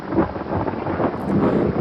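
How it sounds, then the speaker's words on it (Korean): Deep rumbling thunder rolls continuously through a short storm passage, loud and close, with a rain-like wash. "엄청나게 큰 천둥 소리가 들리죠"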